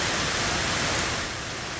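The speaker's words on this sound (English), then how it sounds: "definitely the rain is coming down more, but the wind isn't as heavy" Heavy rain pours down in a storm ahead of Hurricane Helene, a dense, even roar of water that eases slightly partway through.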